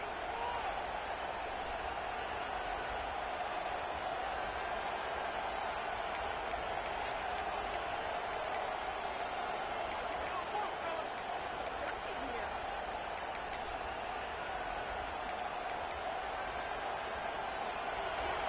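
Steady roar of a football stadium crowd in NCAA 26 college football gameplay, Nebraska visiting Michigan State on a fourth down, a constant dense wash of cheering with a commentator's voice talking over it.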